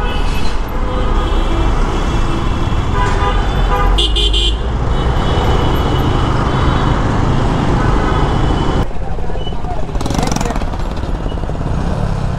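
Congested traffic on a flyover in Dhaka, Bangladesh, with a loud, constant engine rumble and repeated car horns honking close by, plus a brief harsh mechanical rattle, under an unbroken roar of idling and crawling vehicles.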